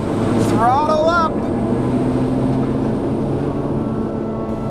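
A steady, loud aircraft engine roar fills the scene as it throttles up for takeoff in Antarctica's Wohlthat Mountains, with a brief voice heard over the drone early on.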